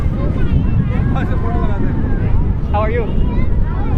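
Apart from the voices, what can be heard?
strong wind blowing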